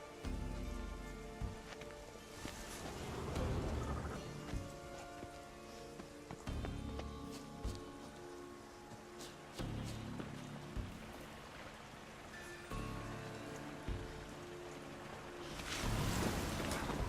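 Rain falls in a video game, a steady hiss of drops with soft patters and some heavier swells, fairly faint and continuous throughout with no speech.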